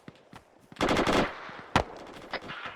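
Rapid gunfire in an Arma 3 firefight: a sustained automatic burst near the start, followed by several sharp separate shots and softer distant pops, loud and close with no talking.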